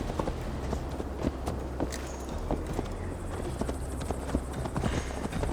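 Horse hooves clip-clopping in Assassin's Creed Valhalla while a rider heads for Tamworth, a brisk, even rhythm of close, sharp hoofbeats under steady ambient sound.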